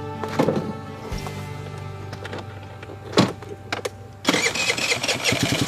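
A small Jinlun JL50QT 50cc scooter engine cranks and catches, a few short bursts before settling into a steady, buzzing run close by.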